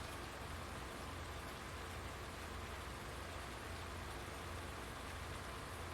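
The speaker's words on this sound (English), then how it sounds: "But it's raining and I don't see any clouds." Steady, even rainfall in the video game Farming Simulator 19 patters continuously on a surface, a soft hiss with no voices or other sounds.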